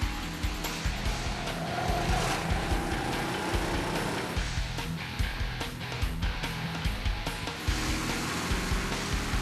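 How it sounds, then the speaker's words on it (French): A motorcycle engine runs steadily with a rhythmic, throbbing pulse and some wind noise, moderately loud and fairly close, with no talking. "Et on entend le bruit du moteur ici."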